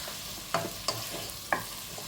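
Onions sautéing in a pan for a Kerala-style chicken stew, a gentle continuous sizzle broken by three crisp stirring scrapes, close and quiet with no talking.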